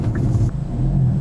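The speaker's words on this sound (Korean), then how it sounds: "1단을 넣으면서 이제 회전수를 조금 띄워준다" Manual car engine held at a steady low rumble as first gear goes in, the revs raised slightly with a faint rise midway, close and continuous with no talk.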